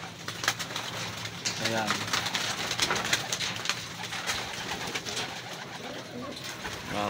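Racing pigeons coo softly on arrival home at the loft after a race in Carmona, Cavite, the low repeated coos sitting under someone speaking and steady outdoor background noise.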